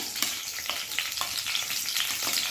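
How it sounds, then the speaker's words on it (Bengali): Chopped onion fries in homemade ghee with whole garam masala, a dense close-up sizzle and crackle with brief stirring taps, steady and loud throughout. "আমি গোটা গরম মশলা ফোড়ন দিয়ে দিলাম। আমি পেঁয়াজ কুচি দিয়ে দিলাম"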